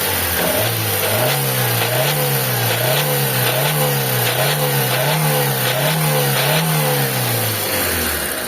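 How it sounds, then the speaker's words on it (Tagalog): A Mitsubishi Lancer with a 4G15 engine and a knocking fault is revved repeatedly in steady waves, loud and close, with a rough rasping clatter inside the engine and no talk. "madidinig natin yung makina, yung ingay ng makina pagka ni-rev natin mga bossing."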